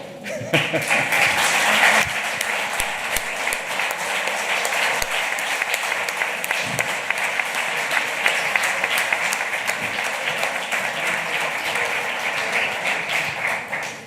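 A room full of people at a formal signing ceremony for a Spanish collective bargaining agreement applauds continuously for over ten seconds, a dense, even patter of clapping with a few sharper claps up close.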